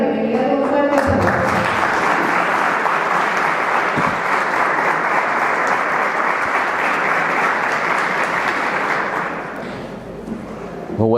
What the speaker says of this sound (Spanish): Le damos la bienvenida con fuerte aplauso.